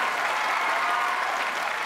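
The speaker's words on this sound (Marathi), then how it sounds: "जोरात टाळ्या पाहिजे उमेश आणि स्पृहासाठी." Steady, loud audience applause for Umesh and Spruha at a Marathi comedy show, a dense continuous wash of clapping with no voices.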